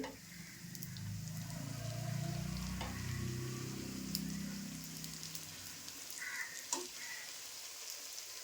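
Malpua batter sautéing in a pan for a Holi sweet gives a steady, fairly quiet sizzle for the whole stretch, with a few faint scrapes and clicks near the end and no talk.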